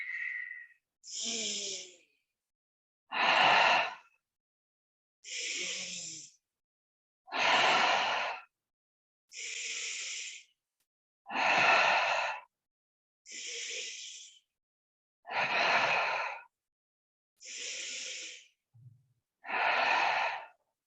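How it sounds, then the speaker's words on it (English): Full, deep breaths drawn in and let out during a hip-focused stretch class, about ten slow, evenly spaced airy breaths separated by near silence, close and clear. "now we're going to go for our full breaths in and out"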